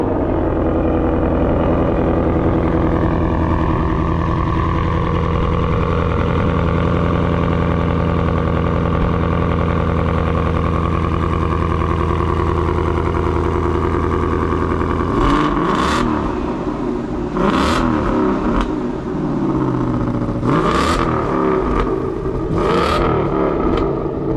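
A Ford Mustang with a Coyote V8 runs after a cold start, idling loud and close with a deep, steady burble. Partway through come several sharp revs, each flaring up quickly and then falling back to idle.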